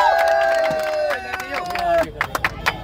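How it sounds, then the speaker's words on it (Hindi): Hands clapping for an uncle at a street free ice cream giveaway in Delhi, a few sharp claps amid crowd chatter and a talking voice, most distinct as separate loud claps near the end. "चलो भाई ताली बजाओ अंकल जी के लिए।"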